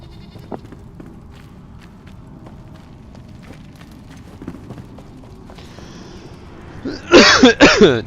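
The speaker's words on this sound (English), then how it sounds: "my cough is worse tonight than it was last night" A person with a worsening evening cough coughs in a short, loud, harsh burst of several hacks near the end, close to the microphone, after quiet background sounds.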